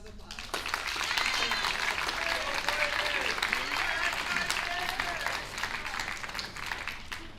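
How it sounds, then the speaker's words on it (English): An audience at a high school awards assembly claps steadily for several seconds, a dense, even wash of applause in a large room that tapers slightly toward the end. "a round of applause."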